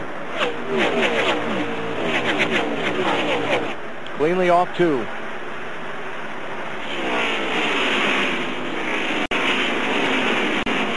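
Stock cars at the 2002 Ford 400 NASCAR race whoosh past in quick succession, engines roaring and fading, with a broadcast commentator talking over the field throughout.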